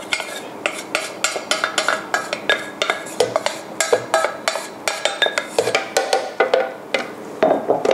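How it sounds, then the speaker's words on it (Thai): Stir-fried spinach is scraped from a pan into a blender jar, with rapid, repeated metallic spoon scrapes and clinks that stay close and loud throughout, with no talking. "นำผักโขมเทใส่โถปั่นแบบนี้นะคะ"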